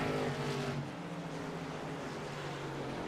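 Race cars at Irwindale speedway during a USRLA double header, engines droning in a steady loud roar with harmonic tones that shift as the cars pass, no talking.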